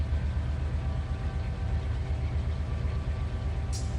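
Freight train creeping slowly forward in the Run 8 train simulator, a steady low rumble of engine and rolling wagons with faint rail hum, continuous and even throughout.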